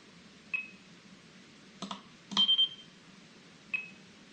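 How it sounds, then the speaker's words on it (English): Quiet, short electronic beeps from an OpenTX radio transmitter: a single beep, a pair of soft clicks, a quick run of three beeps, then one more lone beep, all in a near-silent room. "that little beep is a sign that everything's safe with a quad or a plane or something like that"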